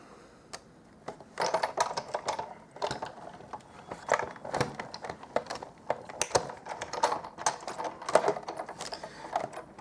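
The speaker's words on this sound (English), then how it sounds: "I'm going to cut a circle, the largest circle, and I'll pop that through the Big Shot" A Big Shot die-cutting machine presses a paper circle, with irregular clicks, taps and mechanical knocks from the crank and plates at close range, fairly quiet and with no voices.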